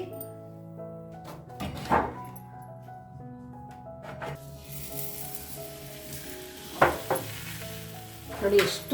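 A thin rolled urad dal flatbread cooks in oil on a high flame, giving a low sizzle broken by several sharp pan knocks and spatula scrapes, louder toward the end.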